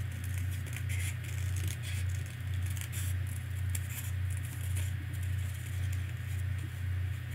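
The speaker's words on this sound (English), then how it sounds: "So I'm going to cut him right on the line." Scissors cut through paper in a steady run of snips and crisp rustles, close by, over a constant low hum.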